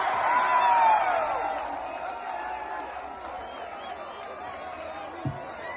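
Big crowd at a Charlie Kirk event in Utah, a broad murmuring roar of many voices with a few rising shouts, fairly loud and continuous, with a short thump near the end.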